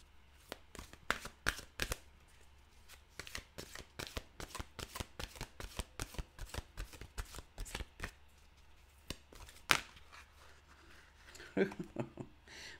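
A deck of affirmation cards being shuffled in a long run of crisp, rapid riffling bursts, steady and close, broken by a few louder card slaps near the end.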